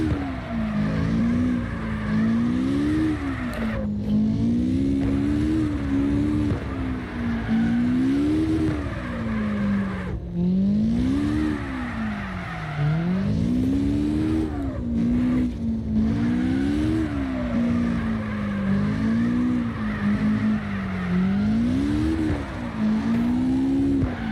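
Drift car in CarX Drift Racing Online, engine revving hard in rising and falling waves as the car slides through corners, loud and continuous with brief throttle lifts and faint tire noise.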